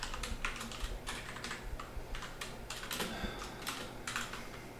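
Rapid, steady typing of code on a computer keyboard, close and clear, with crisp key clicks in uneven bursts and no talking.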